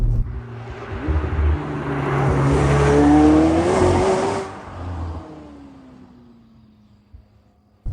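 A McLaren 720S Spider's engine revs hard, climbing to a loud, rasping racing-style peak before the pitch falls away and fades as it eases off, with no talk.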